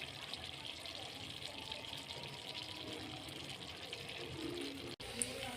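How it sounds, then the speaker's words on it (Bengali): Water runs steadily into a pan of potato and soybean curry, a continuous close gush and splash that stops abruptly near the end. "এই যে জল দিয়ে দিয়েছি"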